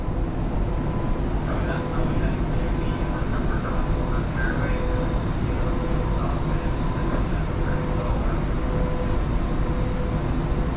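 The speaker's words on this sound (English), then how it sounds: "there's the out-of-service Ion train leaving" An out-of-service Ion light rail train pulls away, a steady low rumble and rolling rail noise with faint squeals, heard at moderate distance alongside a constant drone.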